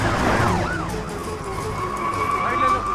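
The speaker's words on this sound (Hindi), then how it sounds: "पुलिस की गाड़ी आ रही है," Police car siren wailing in a rising and falling tone close by in a Hindi-dubbed South Indian film scene, steady and loud throughout, with traffic rumble underneath and a voice briefly heard over it.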